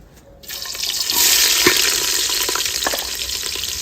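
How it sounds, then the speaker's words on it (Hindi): Onion goes into overheated ghee and bursts into a loud, bright frying hiss that swells after a quiet start and then roars steadily, with a few small pops and clinks. "वो प्याज डालो, घी जल गया है"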